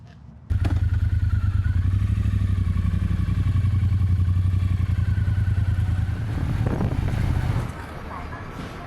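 A motorcycle ride through the quiet Liangzhu neighbourhood of Hangzhou, China, with a steady low engine drone starting abruptly and holding throughout, mixed with wind buffeting the microphone, then easing off near the end.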